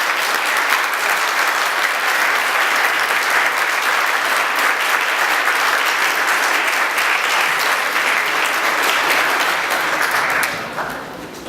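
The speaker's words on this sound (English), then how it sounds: "Once again, a big round of applause for all these folks." A sustained, loud round of applause from a crowd at a political candidates' event, dense clapping holding steady for about ten seconds before tapering off abruptly at the end.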